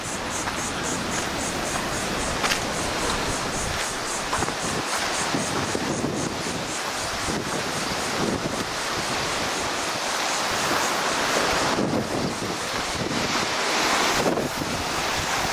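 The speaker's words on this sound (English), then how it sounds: "The lake is pretty rough today, and the wind's been blowing predominantly from the east-southeast for the last few days." Rough lake waves break on a beach under a persistent east-southeast wind, with continuous surf wash and heavy wind rumble buffeting the microphone throughout.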